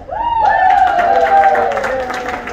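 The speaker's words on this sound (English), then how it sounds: "I want you to give everybody a good round of applause" Loud applause and cheering with whoops from a convention audience at a masquerade costume contest, sustained clapping throughout under a voice.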